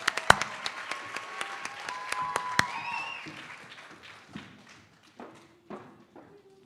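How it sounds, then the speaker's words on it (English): An audience at a school sports awards ceremony gives a short burst of applause, loud sharp claps at first that thin out and fade to scattered claps and faint movement within a few seconds. "Give yourself an applause."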